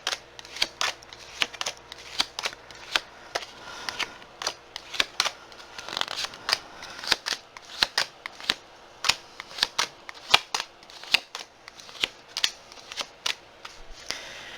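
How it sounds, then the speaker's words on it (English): Tarot cards are laid down one after another on a table, making a long run of crisp, close slaps and flicks at a quick, uneven pace with no talking. "Unless you're just really into watching somebody put down cards."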